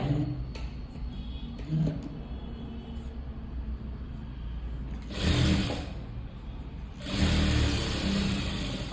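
A sewing machine runs straight stitches along a blouse edge in short bursts, stopping and starting, with a quiet hum in the pauses.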